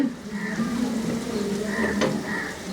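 Onion and tomato mixture with dried fenugreek leaves (kasuri methi) frying in oil, a steady close sizzle with a low continuous hum and a brief clink of a spoon, fairly loud throughout.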